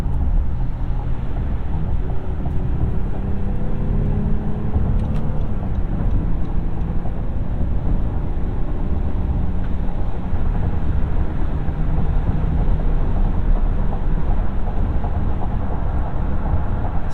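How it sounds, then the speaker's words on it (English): A 2021 Honda Ridgeline Sport with the HPD package merges onto an expressway, giving a steady, loud cabin drone of engine and road noise that holds unchanged throughout, with no talking. "We are merging on to the expressway here."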